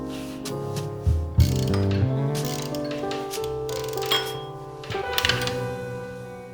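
A hand ratchet clicks and grinds in uneven bursts, close up, as stainless steel bolts are worked loose from an aluminum Audi S6 engine during a timing system teardown, with a few sharp metallic knocks.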